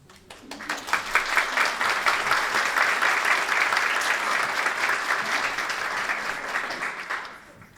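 An audience claps as a talk on the science of reading begins, the applause swelling quickly to a dense steady patter, holding for several seconds, then fading out at the end.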